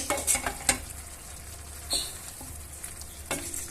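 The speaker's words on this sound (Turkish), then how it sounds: "Hepsini iyice harmanlayalım." Green beans with olive oil, sugar and salt being stirred in a pot, with a soft sizzle under a few spoon clinks and scrapes near the start and end.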